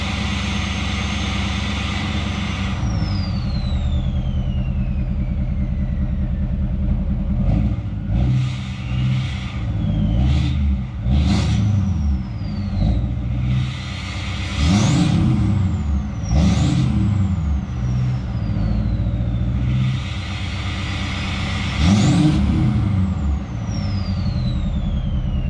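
Duramax L5P diesel pickup engine warming up and then driving, with a steady rumble broken by repeated revs and surges plus sharp hissing bursts, continuous throughout with no talking.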